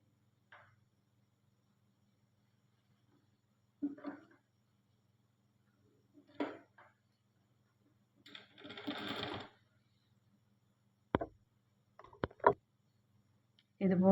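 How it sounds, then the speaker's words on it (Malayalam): A sewing machine stitching along the side of a neckline, heard as one short run of stitching amid long quiet pauses, scattered clicks and brief handling sounds. "ഇതുപോലെ സൈഡിലേക്ക് ഫുള്ളായിട്ടൊന്ന് സ്റ്റിച്ച് ചെയ്ത് കൊടുക്കണം നെക്കിൻ്റെ."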